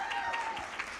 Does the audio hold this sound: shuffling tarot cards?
no